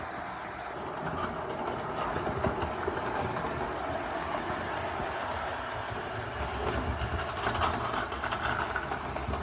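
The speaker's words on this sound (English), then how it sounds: "Even on this rather dubiously set up point down here, a little bit of rattling" Hornby Pullman model train running over a poorly set model railway point, a continuous close mechanical whir with light clicking rattle as the wheels cross, steady throughout with no voices.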